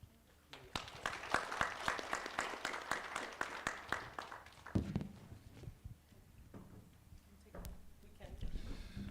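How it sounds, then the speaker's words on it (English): Audience at a groundbreaking event in Lusaka, Zambia, applauding panelists with a dense run of clapping that swells and then thins out into scattered claps, shuffling and footsteps. "let's give another big round of applause to Muma Walia and her panelists"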